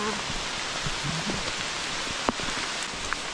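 Heavy rain pours steadily on a hiking trail along the Rheinsteig between St. Goarhausen and Kaub, a dense continuous hiss with a few sharper drop impacts, close and enveloping, with no talk over it.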